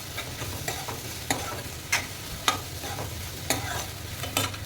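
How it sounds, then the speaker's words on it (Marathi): Chopped onion sautéing in hot oil in a pan for chicken masala, a steady close sizzle with periodic scraping stirs of a spoon against the pan every second or so. "छानपैकी आपल्याला कांदा चांगला परतून घ्यायचा आहे।"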